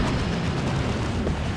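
A Death Roller explodes in a Dawn of War 2 2v2 match, a loud continuous roaring blast that fills the whole moment with dense, booming rumble and no pause.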